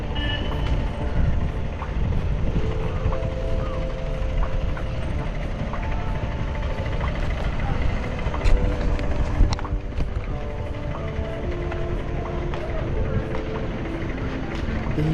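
Fishing boat engine near Matlapalem, Kakinada, a continuous mechanical rumble and clatter heard from on board while riding, with people talking over it now and then.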